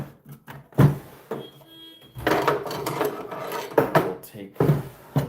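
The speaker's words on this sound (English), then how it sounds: "I want to file the ends just to make it a little bit thinner on the end." Hand file rasping back and forth across the ends of a small metal jewelry piece held in round nose pliers, a series of short close scraping strokes with a denser stretch of steady rubbing in the middle.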